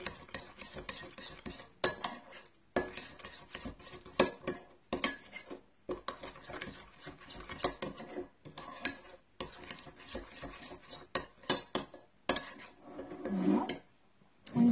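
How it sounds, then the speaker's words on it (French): Grated garlic being mixed into mustard with a utensil in a bowl, giving repeated clinking, scraping strokes in short bursts with brief pauses between them, close and fairly loud. "Je vais bien mélanger."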